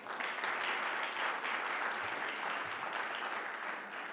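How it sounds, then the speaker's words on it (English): Sustained applause from a crowd at a Black History Month kick-off event in Bloomington, a dense, even roar of clapping heard from some distance, continuous and unbroken throughout. "A round of applause for all, please"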